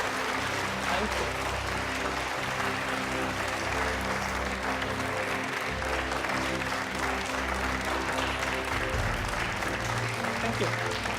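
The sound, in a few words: applause at debate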